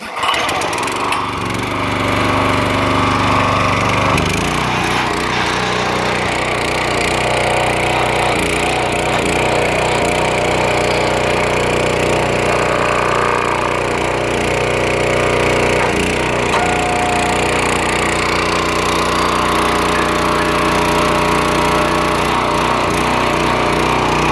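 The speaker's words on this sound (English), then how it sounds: "Let's see if it'll start without choke." The small gas engine of a 25-ton log splitter starts quickly without choke and runs loud and steady, a constant close mechanical roar with some rattling throughout.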